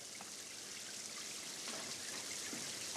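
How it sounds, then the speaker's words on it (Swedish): Artificial rain pours down on a film set, a steady hiss of falling water with scattered patters and drips, even and constant throughout at moderate level. "Öka regnet lite."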